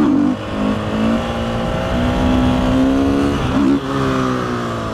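A motorcycle engine running while riding, a loud, steady drone that rises in pitch through the gears with brief dips at shifts, close and continuous throughout.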